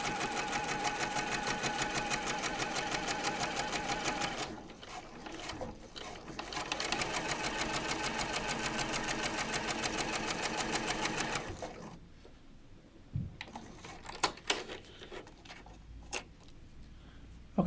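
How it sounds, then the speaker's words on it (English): A sewing machine runs in a long, fast, steady burst while stitching across triangle quilt pieces, then stops, leaving faint handling clicks and rustles. "You're going to sew across the whole thing"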